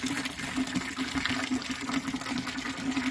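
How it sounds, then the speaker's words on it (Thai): Strong, steady rush of water pouring from a 20 mm PE pipe into a 1000-litre storage tank raised about two metres off the ground, continuous and close with no pauses. "ก็เสียงน้ำยังถือว่าไหลแรงดี อยู่ครับ"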